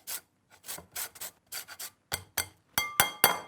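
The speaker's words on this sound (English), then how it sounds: "I'm just grating that again on a fine grater." A whole lime is zested on a fine grater: about a dozen short, close rasping strokes come in quick bursts, growing louder and faster toward the end.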